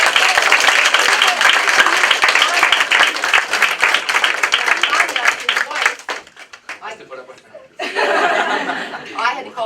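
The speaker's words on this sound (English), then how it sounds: "Big round of applause." Audience at a Teacher of the Year ceremony applauds loudly for about six seconds, mixed with some chuckles, then stops briefly before laughter and voices pick up again.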